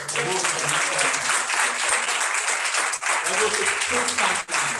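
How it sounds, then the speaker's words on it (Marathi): A church congregation claps loudly and steadily throughout, with voices mixed in under the applause. "यावर जोरदार टाळ्या वाजवूया."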